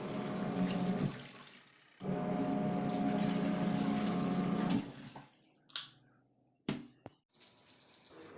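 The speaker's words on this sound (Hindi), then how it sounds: "बाथरूम में थोड़े से कपड़े बचे हैं वॉश करने के लिए पापा जी के" Running tap water pours steadily in a bathroom while clothes are hand-washed, the flow cutting off and restarting, followed by a few sharp splashes and sloshes nearby with no talking.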